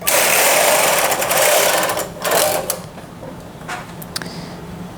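A knitting machine carriage sweeps across a row, a loud, steady mechanical whirr and rattle that eases off partway through, followed by scattered clicks and clacks of the needle bed.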